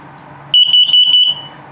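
A piercing carbon monoxide detector alarm in a 2022 CrossRoads Sunset Trail 268RL camper gives four quick, evenly spaced electronic beeps over a low background hum.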